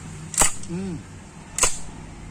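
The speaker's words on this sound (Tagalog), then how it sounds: "May click to na parang totoong baril" Two sharp metallic clicks from the trigger and action of a gas blowback airsoft rifle, spaced about a second apart, loud and close, with a faint brief voice between them.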